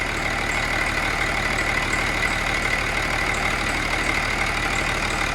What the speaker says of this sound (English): It is now idling at 736 RPM.